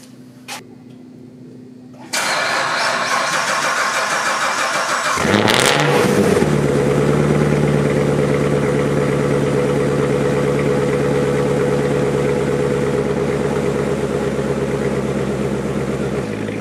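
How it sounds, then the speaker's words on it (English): A Chevrolet Corvette that has sat unused cold-starts: quiet lead-in, then the starter cranks at two seconds, the engine catches with a loud flare around five seconds and settles into a steady, rough, rumbling idle, close and loud. "Fingers crossed that it cold starts."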